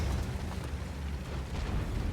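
An artillery shell explodes in the World of Tanks video game, a short loud booming burst with a rumbling tail and no talking.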